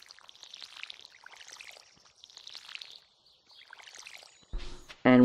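Crops get watered from a watering can in Stardew Valley, with repeated soft splashy pours in short bursts followed by a sharper game chime at the end, close and without speech.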